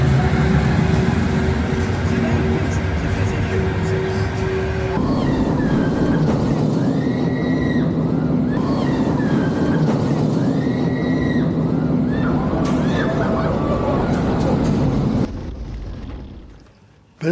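Icon, a double launch roller coaster built by Mack Rides at Blackpool Pleasure Beach, runs with a sustained rumble and rolling rattle of its train, plus squealing tones, while a narrator speaks over it before the sound fades out.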